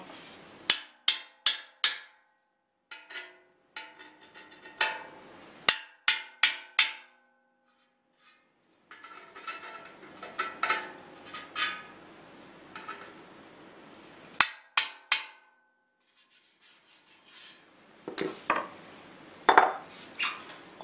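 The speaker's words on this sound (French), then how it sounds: "Je vais volontairement enfoncer le métal pour pouvoir avoir de la profondeur" Sharp metallic hammer blows denting the steel fuel tank of a 1953 Terrot ETM motorcycle, struck close in quick bursts of three to five hits separated by silences, later lighter, scattered taps.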